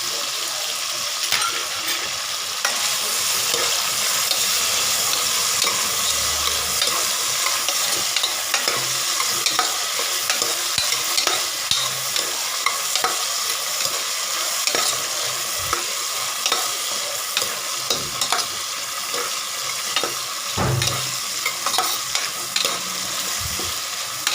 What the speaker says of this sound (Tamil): அடுத்தது வந்து கருவேப்பிலை போட்டுக்கலாங்க